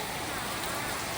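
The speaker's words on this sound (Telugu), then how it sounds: "ఇక్కడ చూడండి ఈవినింగ్ టైంకి ఎంత పెద్ద వర్షం పడుతుందో" Heavy evening rain pours down in a dense, continuous hiss that fills the short moment, loud and close with no break.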